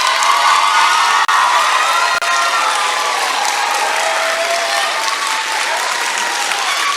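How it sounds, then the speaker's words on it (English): An audience on its feet gives a round of applause and cheering for a school guest speaker, a dense, steady roar of clapping and shouts that stays loud and continuous throughout. "And one more round of applause."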